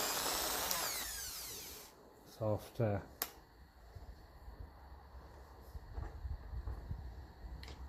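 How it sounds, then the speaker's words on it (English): A Dremel rotary tool fitted with a soft wire brush polishes the diesel fuel pump of a 1954 Ferguson TEF 20 tractor, giving a high whine at first, then a few short brushing bursts over a faint background. "So I'm just going around this with the Dremel now, just to polish up in here where I can't get my hand."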